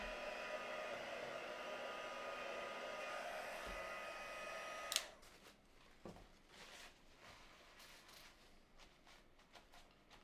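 A hair dryer runs on a craft piece with a steady, loud airy whoosh for about five seconds, then cuts off abruptly, leaving faint handling noises and soft rustles.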